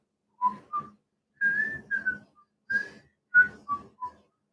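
Someone whistles the Andy Griffith Show theme, a jaunty melody in short clear phrases with brief pauses between notes, close and alone with no other sounds.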